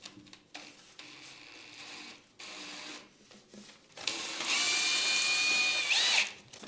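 A power drill drives a screw on a Moen Vale toilet paper holder, sounding in a few short whirring bursts before a louder, sustained high-pitched run near the end, close up with no talking.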